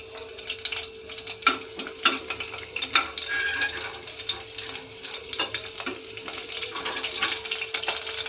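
Curry leaves crackle quietly in hot oil in a pan for a brinjal potato curry, with a soft steady sizzle, scattered pops and a few utensil ticks, no voices.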